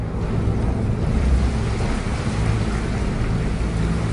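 Steady broadband rain with low rumbling thunder, a continuous storm wash that stays loud and even throughout with no voices.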